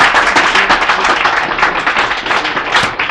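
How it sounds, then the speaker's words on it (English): A large audience claps in sustained applause at a bookstore talk, dense and steady from start to finish with no voices over it. "let's give David another warm round of applause"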